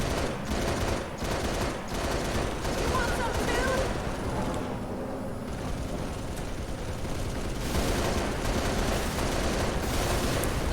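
Sustained heavy gunfire and blasts from Banshee aircraft attacking in the Halo Reach battle at New Alexandria, a continuous loud barrage with a brief lull midway, with some voices mixed in.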